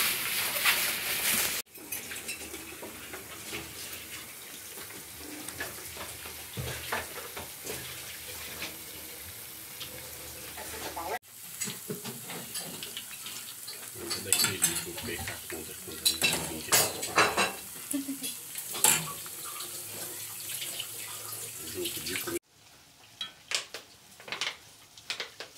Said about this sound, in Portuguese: vou esperar, vou fritar